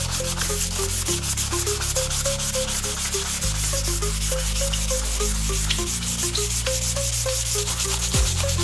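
Steady, continuous sanding of a car trunk panel on a MINI Cooper R53, with a gritty rubbing texture, close and fairly loud, with a faint melodic tone playing underneath throughout.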